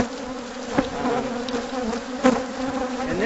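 Dense, steady buzzing of many honey bees swarming close around suited beekeepers, with a couple of brief louder bumps or taps.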